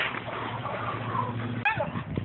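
A seized pit bull at a dog-fighting and breeding bust gives a short yelp or whimper near the end, heard amid background chatter and handling noise from people nearby.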